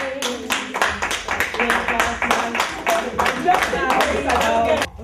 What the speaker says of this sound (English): can we applaud them?